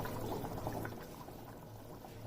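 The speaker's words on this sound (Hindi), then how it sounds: "पानी बहुत अच्छी तरह से बॉईल हो चुका है।" Water boils in a cooking pot for chicken pulao, giving a soft, continuous bubbling and churning that fades slightly toward the end, with no voices.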